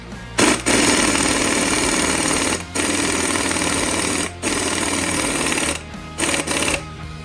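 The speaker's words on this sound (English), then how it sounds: "we're just going to use the bolt and the impact." An impact wrench hammers a bolt onto an engine crankshaft in loud, sustained rattling bursts broken by short pauses, close up and alone without speech.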